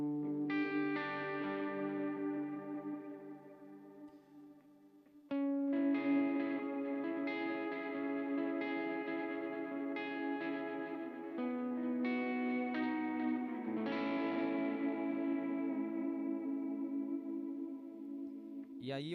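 Electric guitar played through a Blackbox pedalboard preset with heavy reverb and delay always on, ringing sustained chords and notes with lush echo trails, loud and continuous, with a brief pause before the playing swells again around midway.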